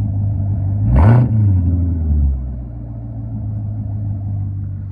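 A modded supercar engine idles with a deep, close exhaust rumble, broken by one sharp rev that rises and falls before settling back to a low idle.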